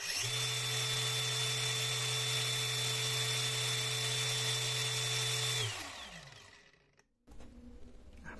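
A battery-powered DCG 406 angle grinder rated at 9000 rpm runs at a steady, loud high-pitched whine close by, then switches off and winds down to silence.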